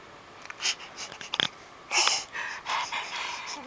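A baby breathes hard in short wheezy, sniffing bursts, close to the ear, with irregular huffs and pauses across a few seconds and no clear talking.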